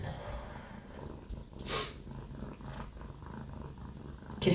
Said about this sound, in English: She always comes to give you some purrs every live.